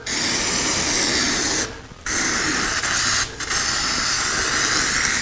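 Lubricant sprayed onto a garage door spring in long continuous hissing bursts, close and loud, broken by two brief pauses.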